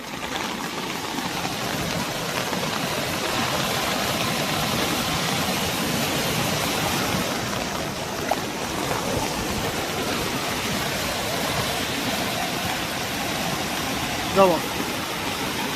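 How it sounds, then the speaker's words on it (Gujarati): Floodwater gushing hard out the side of a small flooded bridge beside a submerged farm road, a dense continuous roar near and loud throughout, with a voice speaking briefly over it. "આ બીજી સાઈડથી પાણી નીકળે છે ધમધોકાર"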